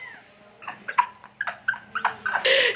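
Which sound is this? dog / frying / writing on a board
dog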